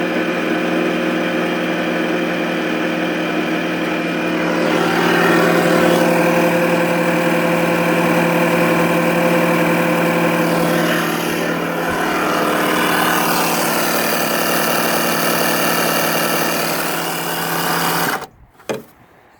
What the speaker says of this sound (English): you wait for a minute or two and it'll pump it up right to where you need it to be